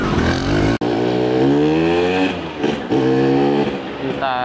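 A 1976 Vespa Special 90 scooter's small two-stroke engine revs loudly up close, its pitch climbing and falling through several throttle blips, with a brief cutout early on and a rising rev at the end.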